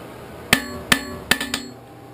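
A hammer strikes hot steel on an anvil while forging a leaf, four sharp ringing blows, the last two close together, each with a brief metallic ring, close and loud.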